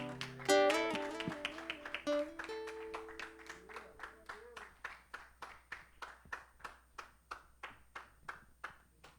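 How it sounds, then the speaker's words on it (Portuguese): A church congregation claps in a steady, even rhythm after a brief musical phrase fades, the sharp claps repeating for several seconds at a moderate distance. "Vamos dar uma salva de palmas ao Senhor."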